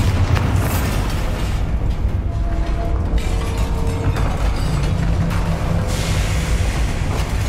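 Explosive spell blasts from Hogwarts Legacy gameplay, a steady dense rumble of booms and bursts with low-end weight running the whole time, loud and continuous over game ambience.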